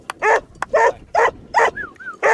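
A protective black male puppy on a farm with sheep yaps in five sharp, close barks at a quick, even rhythm, with a short whine between the last two.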